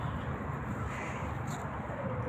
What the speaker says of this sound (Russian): Это ворона.